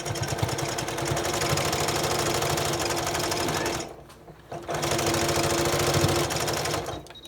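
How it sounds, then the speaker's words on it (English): A domestic sewing machine runs steadily, stitching fabric for a memory pillow made from clothing, with a fast mechanical whir that pauses briefly around the middle before resuming at full pace; no one speaks. "I started to hear my machine get hung up, so I'm going to slow back down"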